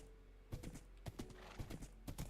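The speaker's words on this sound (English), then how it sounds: "Hi, donkey!" A donkey in the Minecraft video game clip-clops along with quick, soft hoof beats in irregular bursts, faint and close, with no talking over it.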